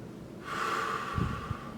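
A single forceful exhale, breath pushed out hard through the mouth for about a second, close and fairly soft, with a small puff at the end.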